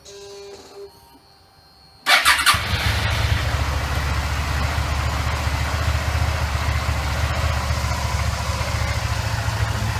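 A 2008 Suzuki SV650 motorcycle with its stock exhaust cranks and catches after a quiet start, then settles into a steady, fairly loud idle with a low, even exhaust rumble.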